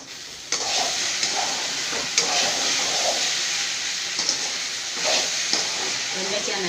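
Okra being stir-fried in a pan, with a steady sizzle and hiss broken by repeated scraping stirs of a spatula at irregular intervals.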